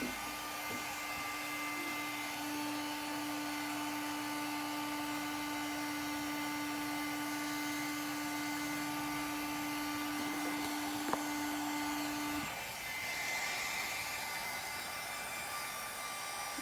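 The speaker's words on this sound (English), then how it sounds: "my heat gun, which is still plugged into my desk." A heat gun blows a steady, faint whooshing hiss with a constant electric whine for about twelve seconds, then the whine cuts off while airy noise lingers.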